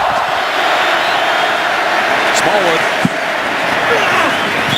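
Stadium crowd roar at a Seattle Seahawks NFL football game against the Philadelphia Eagles, a loud, constant wash of cheering with a single sharp thud partway through and a commentator speaking over it.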